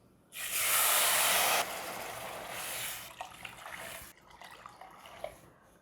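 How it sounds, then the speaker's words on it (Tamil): Tamarind water poured into hot oil tempered with asafoetida and curry leaves for rasam, bursting into a loud, broad sizzling hiss that peaks for over a second, then settles into softer crackling and popping with no talk. "எல்லாம் நல்லா எண்ணெயில் பொரிஞ்சாச்சு. இப்போ புளி ஜலத்தை விட்டுடலாம்."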